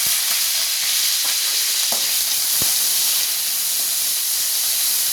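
Dried chillies, tamarind and curry leaves sizzle in hot oil, a steady loud hiss with a few sharp pops and crackles scattered through it, close by and without any voices.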